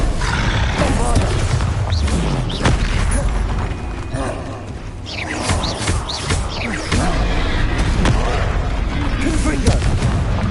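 Bombarda explosion spells in the video game Hogwarts Legacy: repeated booming blasts and crashing impacts spread over several seconds, loud and dense with game action, a voice shouting over them at times.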